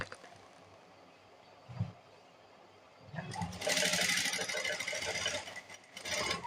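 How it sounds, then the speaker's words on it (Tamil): A sewing machine runs a steady stitch around the neckline of a chudidar backed with canvas. It starts after a quiet lead-in with a small knock, then hums loudly and continuously, close up, with a brief dip near the end. "மேல ஃபர்ஸ்ட் கழுத்துக்கு சுத்தி ஒரு தையல் போட்டுடலாம்."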